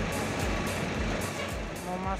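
Short stretch of an intercity Efisiensi bus to Purwokerto entering the Giwangan terminal, with engine rumble and pulsing beeps under a nearby voice.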